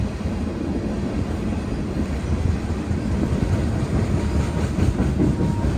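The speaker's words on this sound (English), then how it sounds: "Now this was yet another enormous beast of a train." A long, heavy freight train rumbles steadily past in Wyoming with rhythmic clattering of wheels on rails, loud and close throughout.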